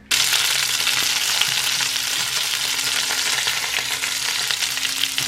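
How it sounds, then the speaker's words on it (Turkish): Steady, loud sizzling of food frying in hot oil, a dense crackling hiss that runs unbroken from start to finish with no voices. "Şimdi kızartalım."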